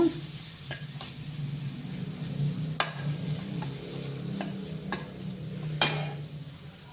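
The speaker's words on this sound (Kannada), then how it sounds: "ಈಗ ಧನಿಯಾ ಪುಡಿ ಹಾಕಿ ನಾವು ತಗೊಂಡಿರೋ ಧನಿಯಾ ಪುಡಿನ ಹಾಕಿ ಇದು ಕೂಡ ಫ್ರೈ ಮಾಡಬೇಕು" Coriander powder and spices frying in a pan for a fish sukka, giving a steady low sizzle with a few sharp ladle taps against the metal, close up and without talk.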